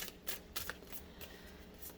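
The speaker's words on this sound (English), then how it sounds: "So sometimes the shuffling process can take a while." Oracle cards are shuffled by hand up close in a quiet room, a series of soft riffling bursts and slaps spread irregularly across two seconds.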